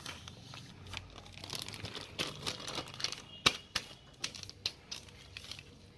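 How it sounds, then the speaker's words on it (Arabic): Plastic bag of frozen tomatoes crinkling and crackling as air is pressed out before sealing, a busy run of close, uneven rustles and sharp crackles with no talk. "بطلع الهواء كده من الكيس كده الاول قبل ما اقفله"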